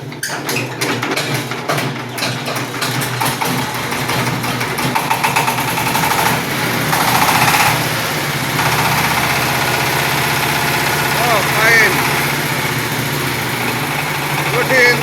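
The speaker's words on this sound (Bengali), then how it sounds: "আমরা এই গাড়িটা এখন স্টার্ট করব শুধু ইঞ্জিনটা" An old Saifeng 20 hp, 18-blade power tiller's engine starts and settles into a loud, steady idle, its close mechanical rumble and vibration running throughout, with voices heard under the engine noise.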